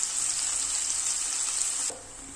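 Spice paste for doi katla, a yogurt fish curry, sizzles loudly and steadily as it fries in a pan, then abruptly quiets near the end.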